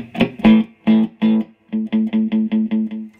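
Electric guitar played through the overdrive channel of a Crate V32 Palomino amplifier, heard alone as a few sustained distorted notes followed by a quick, evenly spaced run of about eight crisp picked notes.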